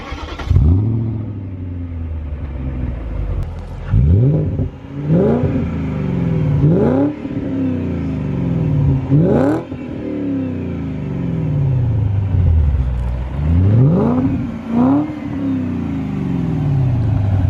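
A manual BMW 535i E39 with a V8 engine is revved repeatedly while standing, each blip rising sharply and falling back to a burbling idle, loud and close, with several revs in quick succession.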